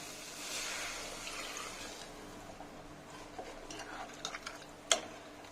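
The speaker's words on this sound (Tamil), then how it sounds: "இப்போ தண்ணி ஊற்றிடலாம்." Water pours steadily into a pot of soya chunk gravy for a couple of seconds, followed by light stirring and a few clinks of a utensil.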